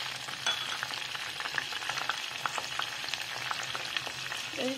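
Eggplant sizzles and crackles as it fries in a small pan, with stirring scrapes through a steady, close frying hiss and no speech.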